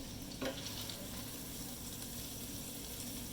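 Meatballs brown in a frying pan with a soft, steady sizzle and one short clatter near the start.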